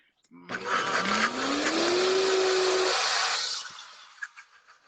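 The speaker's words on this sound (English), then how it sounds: "Don't worry if you don't have a Vitamix, a high-speed blender will do" A Vitamix high-speed blender running on high roars for about three seconds with a whine that rises in pitch, then cuts off and leaves a few faint clatters.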